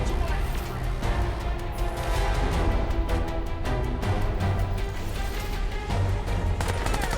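Enemy soldiers fire guns in Crysis 3, with scattered loud gunshot bursts over constant background combat noise and a voice talking through it.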